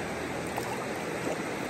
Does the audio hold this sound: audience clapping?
no